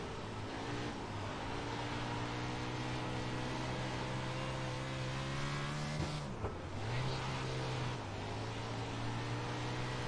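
A USAC sprint car engine in the iRacing simulator drones steadily at high revs, with one brief dip and recovery of pitch partway through, loud and continuous with no talk.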